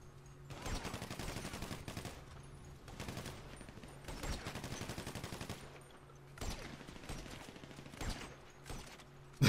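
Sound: gunfire from video game, GTA Online Pacific Standard heist

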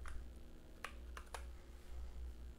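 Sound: typing a two-factor authentication key on a keyboard

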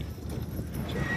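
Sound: show horses' hooves clip-clopping

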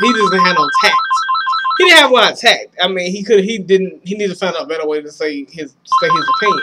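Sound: phone ringing

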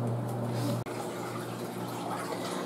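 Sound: Haier HLP21N portable washer running rinse cycle water

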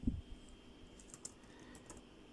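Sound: typing on computer keyboard

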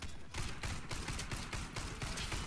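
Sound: MP 443 Grach gunfire in video game Warface

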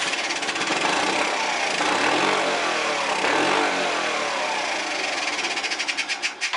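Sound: Honda Passport C70 motorcycle engine running rough after starting

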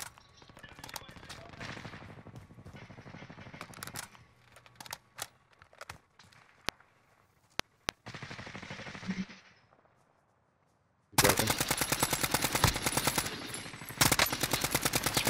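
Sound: sniper gunfire in Call of Duty: Warzone video game

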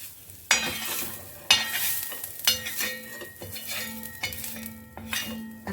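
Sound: onion roasting and being stirred in a pan

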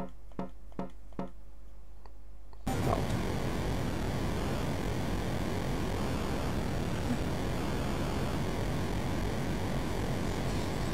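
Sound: airplanes in an Atari Flashback video game

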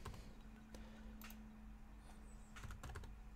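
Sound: typing on computer keyboard

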